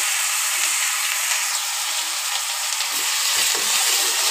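Onion paste fries in hot oil with cumin seeds, a loud, continuous close-up sizzle and hiss that holds steady, with a few faint stirring sounds near the end and no talking.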